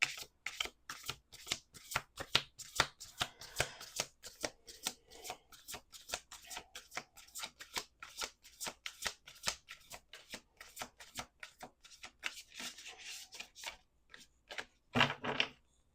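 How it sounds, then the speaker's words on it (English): Oracle cards being shuffled by hand in a steady run of crisp riffling, flicking strokes for nearly the whole stretch, close and clear with no talk, ending in a brief pause and a final burst. "Last shuffle"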